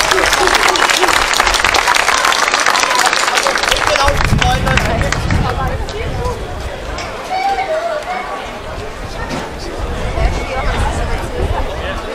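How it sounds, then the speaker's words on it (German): An audience at a Guggenmusik band concert, the Monsterkonzert 2020 in Weil am Rhein, gives loud applause for several seconds. The clapping then gives way to crowd chatter and general hubbub. "Großer Applaus wert."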